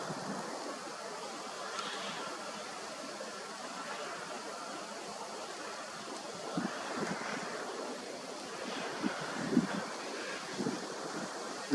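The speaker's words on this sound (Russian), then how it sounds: "Очень сильный ветер, к сожалению." Strong, steady wind roars and buffets the microphone, with gusts swelling now and then over a continuous low rushing.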